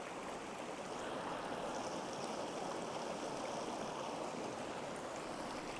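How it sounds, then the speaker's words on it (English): Water from a Sawyer Mini filter being shaken drains steadily in a continuous broadband trickling rush, close and even throughout, with no voices. "I'm still shaking it and water's still coming out because it just fills up and it filters in that chamber"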